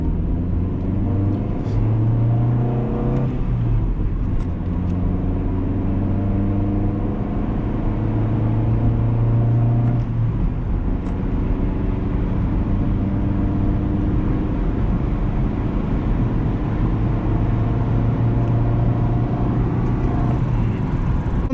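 Steady engine drone and road roar inside a 1999 Honda Civic DX 5-speed cruising at highway speed, a constant loud hum with sustained engine tones that shift slightly in pitch.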